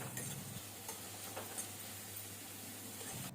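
Ajwain and cumin seeds are stirred in a pan, heard as quiet scraping strokes over a faint sizzle and a low steady hum, with a sharp clatter at the very end.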